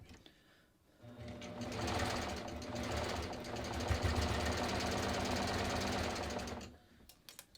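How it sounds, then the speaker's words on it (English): A serger overlocks fabric around a garment's neckline opening, a steady, close mechanical whir with rapid stitching vibration that runs for several seconds before stopping. "I'm just going to serge around my neckline opening."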